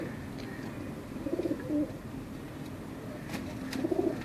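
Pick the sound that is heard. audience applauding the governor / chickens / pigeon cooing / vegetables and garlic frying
pigeon cooing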